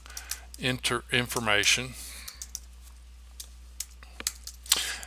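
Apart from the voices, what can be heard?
typing on a computer keyboard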